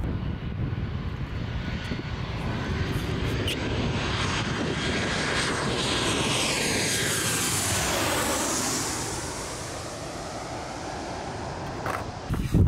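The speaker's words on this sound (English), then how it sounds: "I'm gonna show you how low these planes are." A low-flying propeller plane coming in to land near an airport roars loudly overhead, its engine pitch sweeping down as it passes close by and fades, with wind buffeting throughout.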